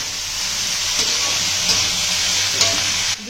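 Boiled banana flower is stirred into onions frying in hot oil, a loud steady sizzle and hiss close by with occasional scrape and clink of the spoon against the pan.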